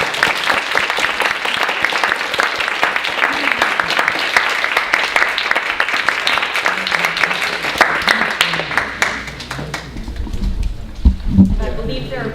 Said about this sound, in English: I hope you'll join me in giving another round of applause for all of our presenters